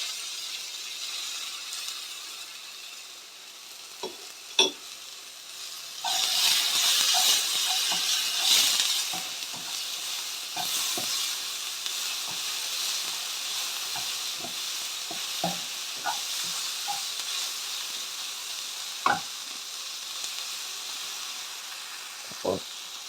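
A pot of crab rice cooking for breakfast, with a steady sizzle and hiss of crab hitting hot oil, frying noise swelling louder as the crab goes in and then settling into a continuous bubbling fry with occasional clinks of a spoon.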